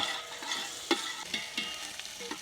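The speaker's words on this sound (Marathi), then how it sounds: "कांदा आता हे थोडंसं आपण हलवून घेऊया" Onion fries in oil over a wood-fired stove outdoors while being stirred, making a steady close sizzle broken by several soft scraping stirs.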